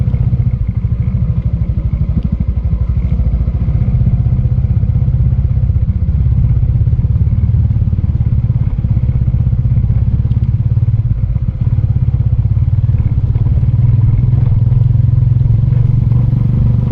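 A wide motorcycle rides along a narrow path through terraced hillside country. Its engine drones loud and steady throughout, with occasional clatter and thumps from the rough ground.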